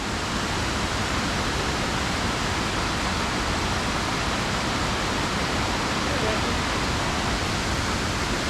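Water pouring over a dam spillway on the Klamath River, a loud, steady broadband rush that holds without a break for the whole stretch.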